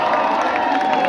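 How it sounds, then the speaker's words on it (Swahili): A crowd applauds and cheers at a live Kenyan music performance, a dense, loud wash of clapping and shouting that fills the whole moment. "kupigeni makofi tena bana"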